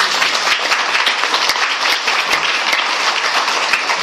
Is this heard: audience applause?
yes